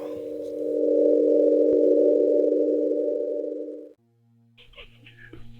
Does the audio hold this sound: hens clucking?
no